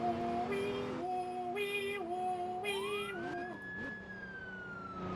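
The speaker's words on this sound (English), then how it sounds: "technically you're in an ambulance going lights and sirens to the hospital" Wailing ambulance siren in the Roblox ERLC role-play game, cycling through steady tones and then sweeping up into a long rising-and-falling wail, heard close and continuous with no talking.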